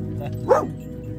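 A dog gives a single short bark or yelp near the middle, close and moderately loud, against a low steady background hum.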